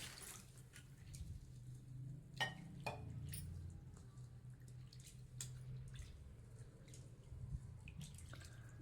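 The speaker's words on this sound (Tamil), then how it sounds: "இதை நம்ம நல்லா தண்ணியில் அலசி எடுத்து வச்சுக்கலாம்" Toor dal lentils being rinsed by hand in water in a home kitchen, with quiet sloshing and scattered drips and splashes, soft and close.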